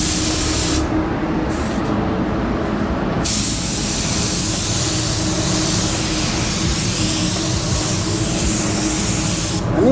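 A spray gun fitted with a 3M fine finish nozzle lays down paint in a loud, continuous hiss, broken by a few brief pauses near the start before running steadily without stopping.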